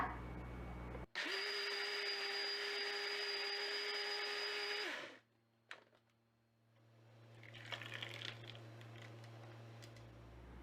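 An electric blender grinds dipping sauce ingredients at a loud, steady whine for about four seconds, then spins down and stops, followed by faint clattering and quiet handling of the jar.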